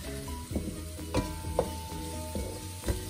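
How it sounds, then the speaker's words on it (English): Finely chopped onions frying with garlic in a pan for a shrimp chowder, a steady low sizzle with stirring scrapes and soft clinks of the utensil, close and alone. "2 very finely chopped onions. So I add this to the garlic."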